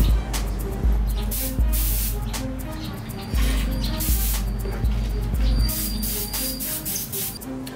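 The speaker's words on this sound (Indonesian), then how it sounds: "kita semprotkan tipis-tipis untuk layer pertama" An Entools spray gun with a 1.0 nozzle at 3 bar lays a thin first coat of candy blue paint onto a Kawasaki Ninja RR wheel rim in repeated hissing bursts, while someone talks throughout.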